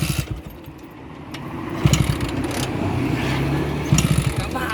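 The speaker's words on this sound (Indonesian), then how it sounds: "Pakai sandal nyelah motor nih." A Vespa-style motorcycle is kick-started by someone wearing a sandal, giving a couple of sharp kick thumps and a rough, low engine chug that sputters near and loud, with the engine catching and idling unevenly.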